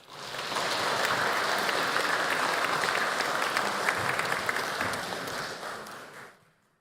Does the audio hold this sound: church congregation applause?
yes